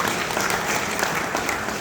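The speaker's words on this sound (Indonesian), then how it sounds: "Tepuk tangan buat Bang Longlong." Dense audience applause at an Indonesian organisational inauguration ceremony honouring a deputy regent, a loud continuous burst of clapping that fills the whole short stretch.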